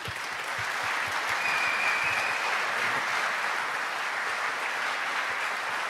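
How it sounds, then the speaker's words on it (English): Warm audience applause welcoming the MCs on stage at the NG-DE Berlin 2025 developer conference, a steady, moderately distant wash of many hands clapping throughout, with no talk over it. "Please welcome with a warm applause"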